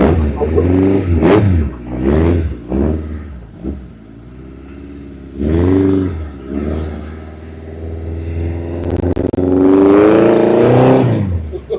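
A car engine revs hard on its first test drive, surging and dropping in several loud, close bursts with wavering pitch and a long rising rev near the end.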